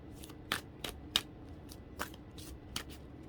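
A deck of large tarot cards is shuffled by hand in short, crisp riffling bursts, about six quick flurries spaced irregularly over a few seconds, close and fairly quiet.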